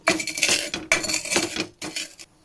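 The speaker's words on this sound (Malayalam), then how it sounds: "ഞാൻ ഒരു ഗ്ലാസ്സിൻ്റെ മൂട് വെച്ചതൊന്ന് പൊടിച്ചെടുക്കുന്നുണ്ട്" Bottom of a glass pressing and crushing cooled ingredients in a Kerala kitchen, giving close, loud clattering and scraping in two long bursts with a short gap, then a quieter tail.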